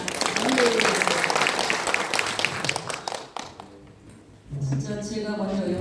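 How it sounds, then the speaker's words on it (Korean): A church congregation claps together in a dense burst of applause that thins and fades after a few seconds, then a voice resumes speaking over low background sound. "주님께 먼저 영광의 박수를 올려드리겠습니다"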